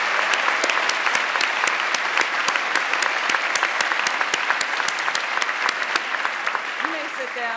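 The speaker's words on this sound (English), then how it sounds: "let's give them a round of applause" Sustained applause for faculty at a kinesiology commencement ceremony, a large audience clapping steadily and evenly for several seconds, with a rhythmic clap pattern standing out near the front.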